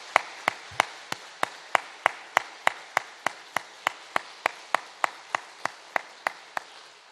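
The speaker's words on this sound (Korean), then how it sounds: "우리 하나님께 영광의 박수를 올려드립니다" A church congregation claps in unison during a Sunday worship service, about twenty crisp, evenly spaced claps in a steady rhythm that carry on without pause, with no talk over them.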